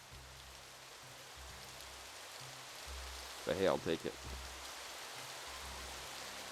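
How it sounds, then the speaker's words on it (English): Steady, even rain falls in the colonial Plymouth setting of the game Colonize, a continuous soft hiss through the whole stretch, with one person speaking briefly partway through. "It's also raining too."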